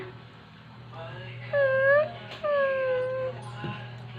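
A dog gives two drawn-out, rising-and-falling whimpers close by, separated by a short pause, over a low background hum.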